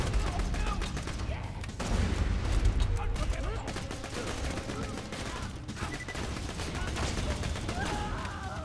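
Automatic pistol fire in the shooter game Borderlands 2, rapid bursts of gunshots mixed with game effects and music while players talk over the action.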